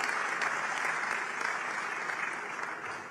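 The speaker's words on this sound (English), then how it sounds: "that deserves a round of applause, really" An audience at a cultural session on connection and belonging gives a brief round of moderately quiet, continuous clapping that stays even before easing off at the close.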